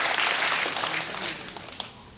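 An audience applauds at a 9-ball pool match: a broad wash of clapping from a crowd, steady at first and then thinning and fading toward the end.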